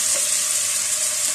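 Sliced onions sizzling in hot oil for a beef mince dish, a bright continuous hiss of close frying without pauses or voices.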